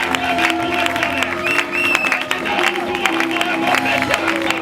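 A church congregation cheers and acclaims, a loud continuous wash of crowd voices and clapping with shouts rising over it, and a voice speaking through it.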